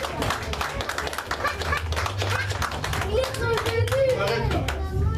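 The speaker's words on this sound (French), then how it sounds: "Acclamons pour Jésus." A church congregation claps and applauds for Jesus during a French-language service, a steady burst of many hands near and loud, with voices talking and calling out over the clapping throughout.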